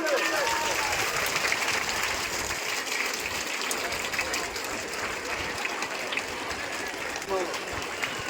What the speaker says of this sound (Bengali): সকলে হাত হাততালি দেবে